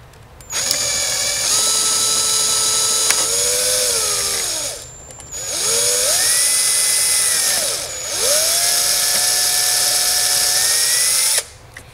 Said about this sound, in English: I'm gonna be using a really small drill bit for this.